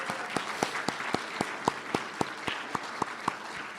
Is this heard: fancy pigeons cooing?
no